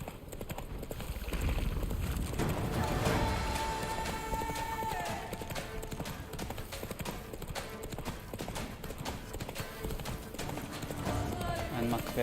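A horse gallops in The Witcher 3 video game, with rapid rhythmic hoofbeats close by across the whole stretch while game music plays and a voice talks over it.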